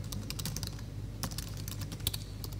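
Someone types quietly on a computer keyboard, producing a faint, uneven stream of rapid key clicks with brief pauses between bursts.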